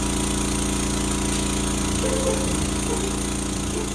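A lawn mower engine drones steadily and loudly throughout, a constant mechanical hum with a faint rising whine partway through.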